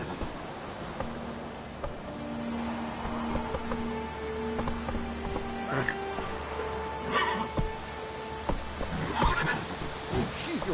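Roach the horse neighs in The Witcher game, a few whinnying calls rising over steady rain, hoofbeats and game music, with a voice talking throughout.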